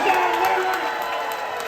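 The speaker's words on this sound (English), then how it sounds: "we're going to give you a massive round of applause" A cruise ship audience applauds a game show winner, a dense wash of clapping that holds steady throughout the moment.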